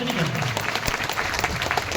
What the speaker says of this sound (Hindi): ताली जोरदार बजा लीजिए